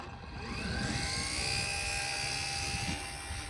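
RC Super Cub S model plane flying overhead, its small electric motor giving a steady buzzing drone with a high whine, holding nearly constant loudness throughout with faint wind noise beneath.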